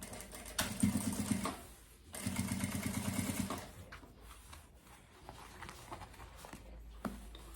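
A sewing machine stitches the zipper of a fabric carry-on travel bag in two short rattling bursts of rapid needle clatter, close by, separated by a brief pause and followed by quiet handling noises.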